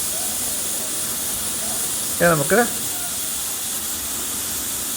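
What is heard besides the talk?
pressure cooker whistle releasing steam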